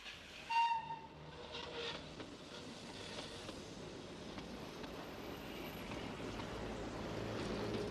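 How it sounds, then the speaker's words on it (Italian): A train at the Gioia Tauro railway station rumbles steadily with low clatter and a brief high tone near the start, heard as a station sound effect with no talking. "è in partenza al binario 2, treno diretto per Milano Centrale"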